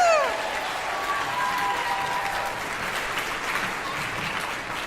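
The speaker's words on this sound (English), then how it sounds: "Let's give them a round of applause again." Crowd applause and cheering for SCS teachers at a school game event, with a rising whoop at the start and then steady clapping from a large group.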